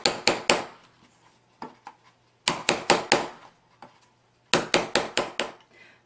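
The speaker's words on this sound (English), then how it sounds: "Give them some quick taps." A rivet setter tapping rivets through chipboard letters on a desk: quick, sharp metallic taps in three tight bursts of four or five strikes, with a few lighter taps in between. Close and crisp, with no talking.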